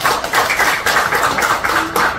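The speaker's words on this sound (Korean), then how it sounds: "양준호 교수님께 박수 한번 부탁드리겠습니다" Steady, close audience applause at a Korean book talk on citizen-led local circular economy, with many hands clapping densely and evenly for about two seconds, with no speech over it.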